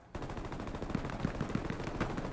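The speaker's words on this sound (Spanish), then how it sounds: "¿A dónde dispara este hombre?" Rapid gunshots in a televised shooting game, a steady burst of repeated shots at moderate distance, fairly quiet, with no talking.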